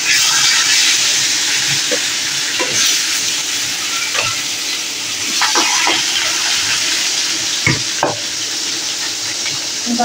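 Mrigal fish frying in oil, cooked with little spice and oil, gives a steady close sizzle and hiss throughout, broken by occasional soft clinks and stirring taps, with no talking.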